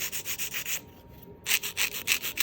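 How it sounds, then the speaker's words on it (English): A nail file rasps against an artificial nail tip in quick, even strokes, a close, bright scratching rhythm that pauses briefly midway before resuming. "you just want to hold your file straight up against and file"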